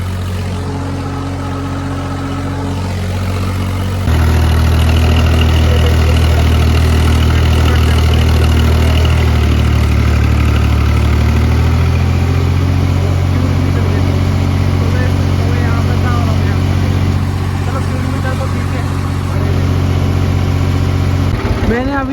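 A heavy New Holland tractor diesel engine rumbles steadily and loudly throughout, its low drone surging to a stronger pitch partway through, with some talk underneath.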